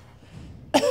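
Quiet background murmur, then a single sharp cough bursts out near the end, close and loud.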